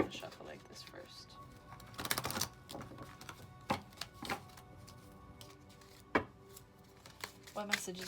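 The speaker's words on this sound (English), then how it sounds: "I'm going to shuffle like this first." Tarot cards are shuffled with soft riffling and tapping bursts, irregular and close, while a person talks quietly over them.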